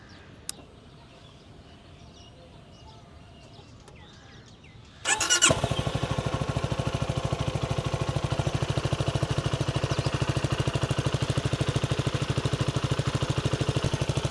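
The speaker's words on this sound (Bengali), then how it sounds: "বাইকের ইঞ্জিনের যে সাউন্ডটা মারাত্মক মারাত্মক গুরুগম্ভীর একটা বেস পাওয়া যায়" A CFMOTO 300NK motorcycle starts after a few seconds of quiet outdoor ambience: the engine catches abruptly, then settles into a loud, steady, deep idle with a rapid even pulse that holds to the end.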